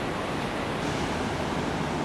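Ocean surf near Brisbane, Australia, a continuous dense roar of breaking waves, loud and steady with no voices.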